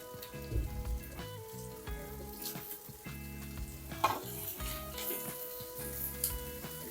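Chopped green chilies and onions sauté in a pan with a steady, close sizzle, broken by occasional scrapes of stirring, and a faint sustained tonal hum running underneath.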